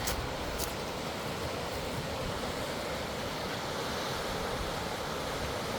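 The Klamath River flows nearby as a loud, steady broadband rush of water that stays constant throughout, with no voices.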